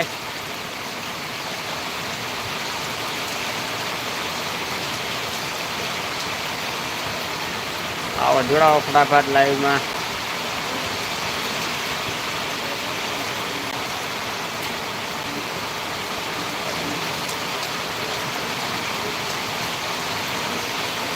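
A constant wash of heavy rainfall fills the scene at a farm, with a person briefly speaking over it midway.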